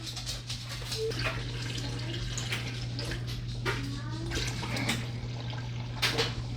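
Water pours steadily into a cooking pot while apple pie filling is being prepared, a continuous close splashing over a low steady hum, with no talk over it.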